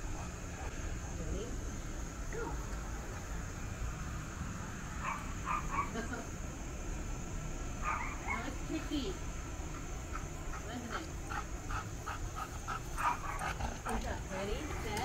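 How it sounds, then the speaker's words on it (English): A small yappy dog barks outside on a leash, its scattered yaps and whimpers faint and distant under nearby talking and steady outdoor background noise. "they just leave him outside to bark"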